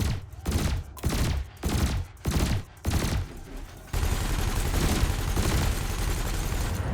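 Spaceship weapons in the video game Elite Dangerous fire at floating canisters. Five or six evenly spaced, loud bursts are followed by a sustained stream of continuous fire.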